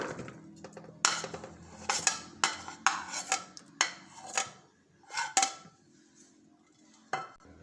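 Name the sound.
chickpeas and potatoes being added to a mixing bowl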